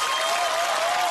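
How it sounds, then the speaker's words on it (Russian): Audience applause on a Russian comedy stage show, a thick continuous wash of clapping from a large crowd, loud and even throughout, with a faint sustained musical tone underneath. "под ваши бурные продолжительные аплодисменты я вам представляю гордость нашей страны"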